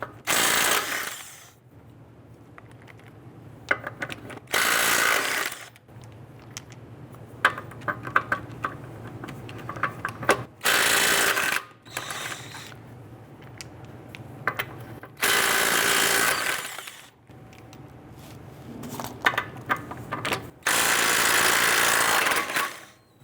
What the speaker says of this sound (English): I'm going to use a 21mm socket. I'm going to loosen and remove our lug nuts.